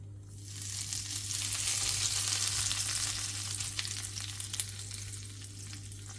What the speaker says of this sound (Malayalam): അപ്പോൾ നമുക്ക് കടുക് താളിച്ച് കൊടുക്കാം.